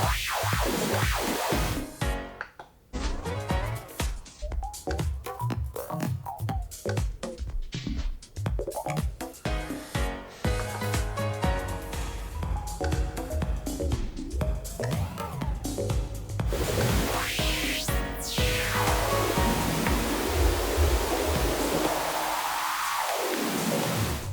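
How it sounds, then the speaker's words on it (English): Beat-driven music plays on a Pioneer DDJ-SX2 DJ controller, then a rising and falling noise sweep effect whooshes across the mix, loud and up close, fading at the end. "so a little noise sweep."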